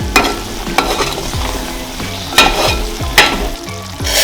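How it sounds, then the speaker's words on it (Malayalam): Tandoori chicken gravy is stirred in a hot frying pan, with a loud, steady sizzle and sharp scraping strokes of the spoon recurring every second or so, close up and without any talking. "ജസ്റ്റ് ഒന്ന് ഇളക്കി കൊടുക്കാം."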